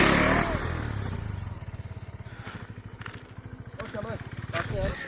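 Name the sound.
motorcycle engine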